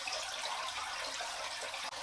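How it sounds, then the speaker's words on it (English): Fresh water pours steadily into buckets during an aquarium water change, a continuous hissing, splashing rush at moderate level that holds throughout with no talking. "Now to empty the buckets and fill with fresh water"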